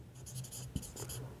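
Pen or chalk writing during a maths lesson, quick scratchy strokes in several short bursts with a single tap, faint and close, no talk.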